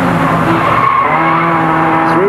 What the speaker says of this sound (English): Field still riding with Ian Taylor, race leaders ahead of him